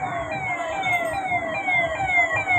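Sirens on the motorcade of former chief minister Uddhav Thackeray passing through Ganjwe Chowk in Pune, heard as repeated falling wails that overlap under steady traffic rumble at moderate distance.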